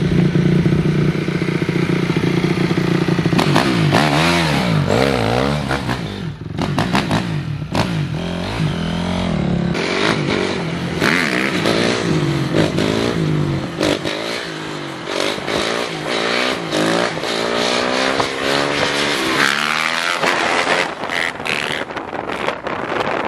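Motorcycles ride off and accelerate, their engines rising and falling in repeated revving sweeps, heavily buffeted by wind noise on the microphone.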